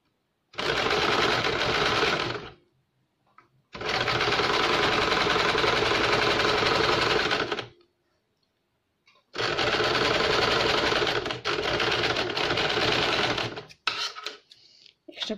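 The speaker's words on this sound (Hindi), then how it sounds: "यहाँ पे सिलाई देंगे" An electric sewing machine stitches a tuck blouse, running the hook strip in three long rapid whirring bursts. Short silent pauses separate the runs, and a few light clicks and handling sounds follow at the end.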